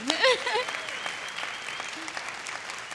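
Audience applause, a dense patter of many hands clapping steadily, with a brief voice cutting through at the start.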